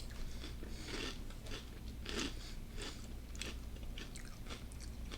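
Someone bites into a snack with a sour, slightly spicy flavour, producing a few close crunching bites followed by steady chewing, quiet and without talk.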